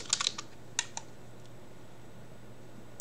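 A few quick keystrokes tap on a computer keyboard in a quiet room, a short burst at the start and one more near the end, over a faint steady hum.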